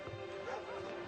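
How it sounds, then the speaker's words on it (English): A dog gives a quiet, whimpering bark indoors, faint and somewhat tonal, heard alone at low volume. "you keep that damn dog under control"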